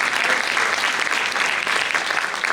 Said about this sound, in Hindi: जोरदार तालियां बजाएं डॉक्टर सुरेंद्र।